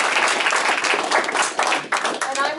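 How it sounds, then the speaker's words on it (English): Short burst of audience clapping in a small gathering in Mojave, close and uneven with individual claps audible, mixed with voices and cheering throughout. "we applaud you"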